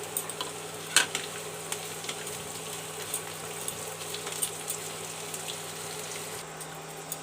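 Onion, cashews, garlic, ginger and green chili frying in oil for an egg curry, a soft, steady sizzle and crackle beneath a faint hum, broken by scattered light pops and spatula clicks.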